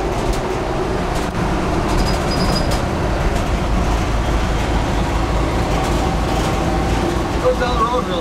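Loud, steady road rumble fills the bare cab of an old truck with no headliner or carpet, cruising around 55–60 mph; broadband drone runs throughout with faint rattles.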